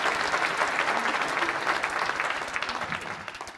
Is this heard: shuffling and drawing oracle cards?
no